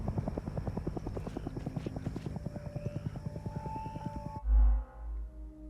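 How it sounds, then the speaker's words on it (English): Helicopter in the video game Hell Is Us: a steady rapid rotor chop with a droning whine, fairly loud and continuous, cutting off abruptly near the end, followed by a few low rumbling thuds. "Oh, oh, helicopter,"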